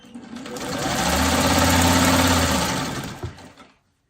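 A sewing machine runs steadily, stitching quilt fabric from scraps. It is loud and close, speeds up into one continuous whirring run for about three seconds, then stops with a brief clunk.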